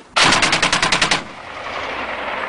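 A rifle volley fires at a memorial ceremony for fallen soldiers at Fort Lisse: a loud, rapid burst of about nine shots, followed by a fading echo.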